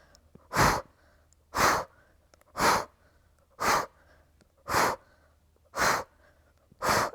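Forceful breathy exhalations come during exercise, seven evenly spaced puffs about a second apart, close and distinct against near silence.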